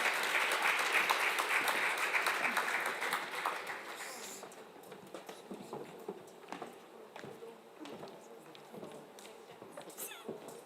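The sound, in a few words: audience applause at anniversary celebration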